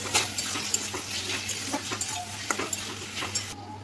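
Spice paste, raw onion and green peas frying in a pan, close and busy with a light sizzle under repeated scraping and tapping stir strokes, no voices.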